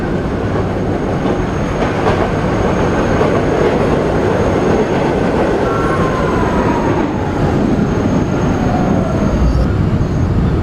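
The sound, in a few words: PST-2R (B) train running, from a video game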